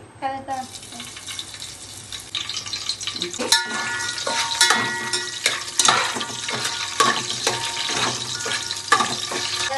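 Curry leaves crackle and sizzle sharply as they hit hot oil, a bright spattering hiss that carries on steadily, with a voice faintly behind it.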